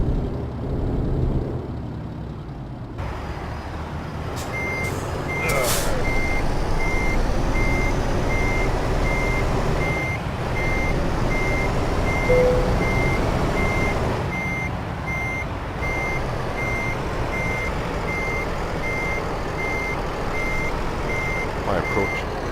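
A long truck reverses to face the parking area, a steady backup beeper repeating at a regular pace over a loud, continuous engine drone, with a brief hiss near the start.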